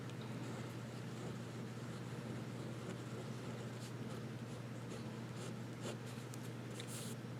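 A fountain pen nib writes across paper, producing a soft, continuous scratchy scrape with faint stroke accents, very quiet against a steady low hum in the room.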